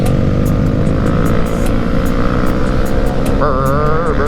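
2019 Honda CB500X motorcycle on a Thursday night group ride in Oregon, a loud close engine drone with wind rush, steady throughout with a brief rising rev near the end.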